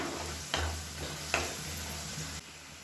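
Vegetables sautéing in a pan, a soft low sizzle with a couple of faint utensil taps, quiet and close.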